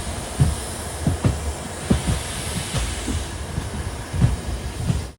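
The Gomteshwara Express pulls out of a station on the Bengaluru to Mangaluru route, a loud, close rumble with rhythmic clacking of wheels over rail joints and a continuous rushing roar.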